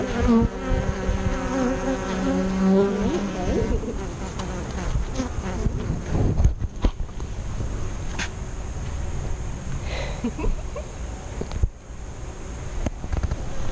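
Honeybees buzz steadily at a beehive, a dense, continuous drone close by, with a faint gust of wind brushing the microphone now and then.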